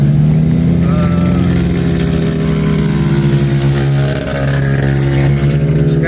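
A Skylab-style extended motorcycle taxi idles and runs on a mountain road near Gingoog City, its engine a loud, steady drone with low throbbing tones close to the microphone.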